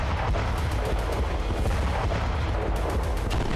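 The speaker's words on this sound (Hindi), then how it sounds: "भीषण बमबारी" Heavy bombardment and gunfire in the Gaza war form a dense, continuous roar of explosions and rumbling, loud throughout with faint rapid pops blurred together.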